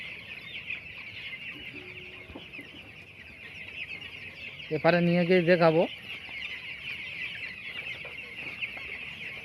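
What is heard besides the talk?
broiler chickens clucking on a farm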